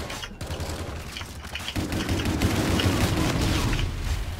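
Sustained gunfire in Call of Duty Infinite Warfare, a chain gun firing in a dense rapid stream with booming impacts underneath, loud and continuous throughout with no talking.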